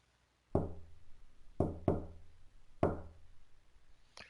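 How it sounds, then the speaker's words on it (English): Knocks on a door in the video game CHAOS;CHILD: a single sharp rap, then a quick double knock, then another single knock, each ringing out with a short hollow decay in otherwise quiet surroundings. "Someone was clearly knocking on his motherfucking door"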